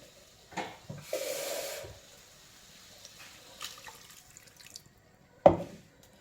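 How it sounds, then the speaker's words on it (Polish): Water is added to a konjac pasta with tuna in cream sauce, a brief splashing pour near the start, followed by quieter kitchen sounds and a sharp clatter near the end. "Możemy dodać troszkę wody."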